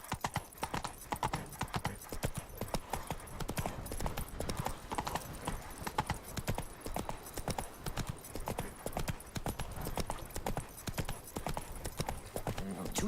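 Hooves of a horse clip-clop steadily and loudly in The Witcher 3 video game, a continuous rapid trotting rhythm with ambient game background and occasional voice.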